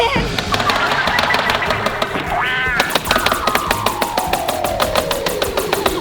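Automatic gunfire in a zombie shooting video game, rapid loud repeated shots in a steady burst after a brief quacking squawk, with a voice exclaiming over it.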